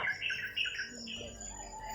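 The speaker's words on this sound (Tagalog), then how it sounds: "At bandang doon kasi yung uwak pag ganun sila" A couple of rough crow caws ring out near the start, followed by quieter raspy calls fading into the background.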